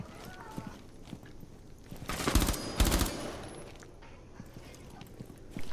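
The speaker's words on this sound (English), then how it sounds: "I think he's shooting your feet." Gunfire in a Rainbow Six Siege ranked match: two short, loud bursts of rapid shots stand out over quieter game sounds, with a few faint footstep-like clicks before and after.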